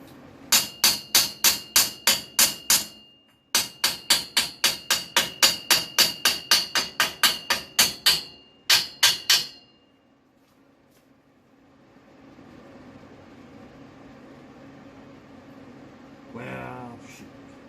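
An improvised tap hammer strikes metal in rapid, evenly spaced blows, each sharp and ringing, in loud close bursts. The taps stop and give way to a quiet hum, with a short vocal sound near the end.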